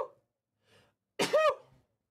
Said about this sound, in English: Oh, I might need a sneeze.